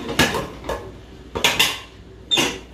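A metal pressure cooker pot being handled in a home kitchen, a few sharp clanks and scrapes at irregular intervals, close and loud with quiet gaps between.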